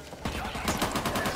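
A sawed-off shotgun fires in Back 4 Blood, several heavy booming blasts in quick succession, loud and close, amid combat noise.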